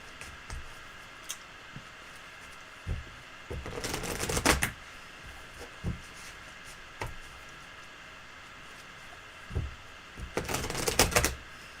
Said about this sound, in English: Shuffle carefully. No dropping cards.